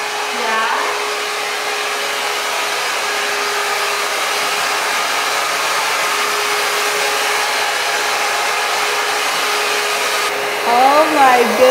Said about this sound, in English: we are going to blow dry it now